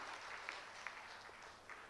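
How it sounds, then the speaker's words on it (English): Audience applause at a felicitation programme honouring an alumnus, a soft, steady patter of clapping heard from a distance, fairly faint throughout with a few sharper claps standing out. "A big round of applause to sir for that great work that he is doing"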